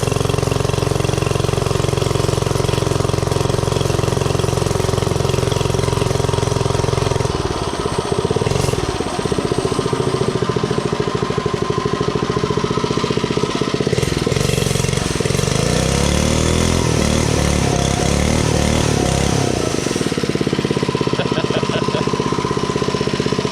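A Mega Moto 80 minibike with a Predator 79cc engine runs continuously nearby, buzzing steadily with a few rev rises and dips in pitch, alone without talk.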